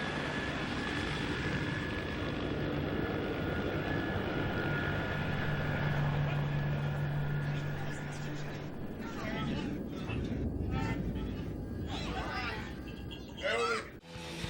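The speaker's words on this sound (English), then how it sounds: "The scanner noise dies down and is overpowered by the helicopters and the ambient noise of the city" A steady, heavy engine roar from police helicopters overhead fills a wide city ambience, with a sharper burst of activity and faint voices toward the end.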